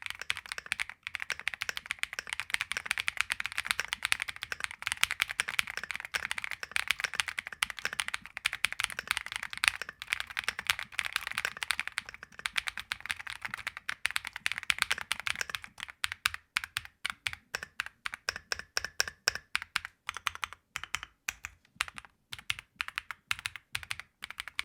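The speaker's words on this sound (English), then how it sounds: "here's a quick typing test." Fast typing on a KiiBoom Phantom 81 v2 mechanical keyboard, dense overlapping keystrokes for about fifteen seconds, then slower, distinct clacks spaced out in a steady rhythm, close and clear with no talk.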